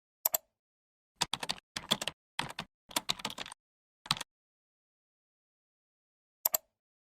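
Computer keyboard typing while entering text in label design software: short bursts of quick close clicks over about four seconds, then a pause and one last brief flurry, with no voices.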